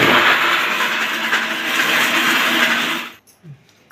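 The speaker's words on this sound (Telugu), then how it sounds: "మిగతావి మిరపకాయలు చింతపండు అన్నీ కూడా మిక్సీ చేస్తున్నాను" A mixer grinder whirs loudly and steadily as it grinds dry red chillies and tamarind, then cuts off abruptly near the end, leaving a brief faint clatter.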